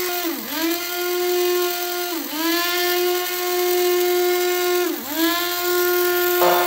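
A small electric grinder whirs loudly and steadily while grinding dried hot chili peppers into a coarse powder, its motor pitch dipping briefly three times as the load shifts, with no talking.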